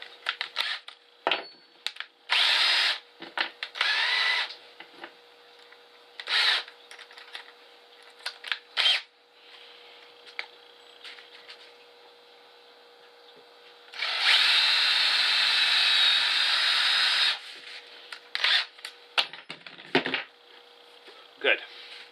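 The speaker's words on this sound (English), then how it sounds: "I'm going to drill my other one now" A power drill whirs in several bursts, with one long sustained run in the middle, interspersed with clicks and handling noises nearby.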